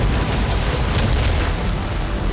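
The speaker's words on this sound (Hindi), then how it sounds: "विस्फोट इतना खतरनाक था कि नजदीक की 4 मंजिला इमारत की दीवारें टूट गई।" A loud, sustained explosion boom with a dense rumbling roar that fills the whole stretch, heard from a bombing blast in Russia that shattered nearby building walls and windows.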